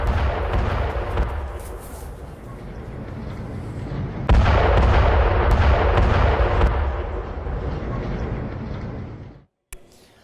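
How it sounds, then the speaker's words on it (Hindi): Israeli bombardment striking Hezbollah positions in southern Lebanon: loud, continuous rumbling blasts and booming detonations, with a sharper surge of explosive roar midway, then a sudden cutoff near the end. "दक्षिणी लेबनान में इजराइल का विध्वंसक हमला, हिजबुल्लाह के ठिकानों पर भीषण बमबारी"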